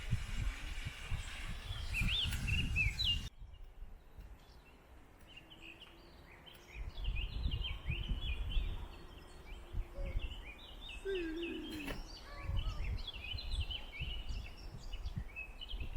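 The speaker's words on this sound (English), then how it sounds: "Mostly birds I hear" Several birds chirp and sing at a distance outdoors over low wind rumble, with scattered calls continuing throughout.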